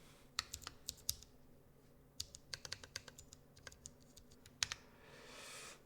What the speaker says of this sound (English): Why is he typing with no keycaps on?